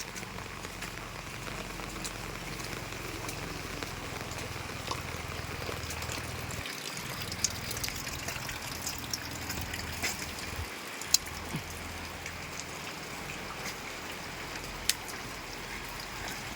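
Heavy rain pours steadily on a cold morning, a dense unbroken hiss with scattered louder drops and drips standing out, close and continuous for the whole stretch.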